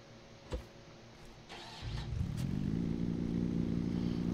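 A vehicle engine in the Scrap Mechanic video game cranks to life after a few clunks and settles into a steady, droning mid-pitched run that stays loud and even to the end, with no voices.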